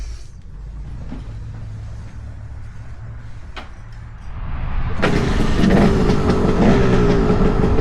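A KTM 300 two-stroke dirt bike engine is kicked into life after a low idle-like rumble, jumping around five seconds to a loud, steady, raspy running roar that continues close by without talk.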